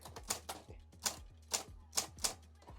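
An old electric typewriter, a flea-market find from 1988, types in a run of sharp mechanical key strikes, about six or seven in irregular rhythm, close and clear over a faint motor hum.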